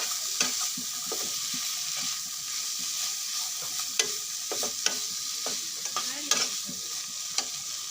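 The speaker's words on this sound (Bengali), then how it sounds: "এই যে আলু আর ডাঁটা নিয়েছি, এর মধ্যে ছেড়ে দিব, ভালোভাবে মিশিয়ে নিব।" Potatoes and vegetable stalks frying in spices, stirred steadily with a constant bright sizzle and repeated scraping strokes of a spoon against the pan, close and alone with no talk.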